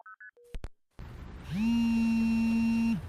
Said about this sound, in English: Pick up the phone, Very Sam.